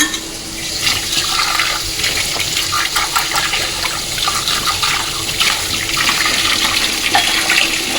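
Water runs steadily from a kitchen tap during washing and draining, a loud, continuous gushing splash that stays even throughout with no pauses.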